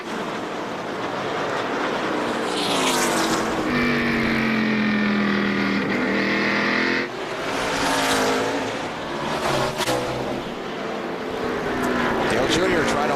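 Stock car engines roar past loudly during the 2003 Subway 500 race, one rising to a sustained high whine before fading, with a commentator speaking over the noise.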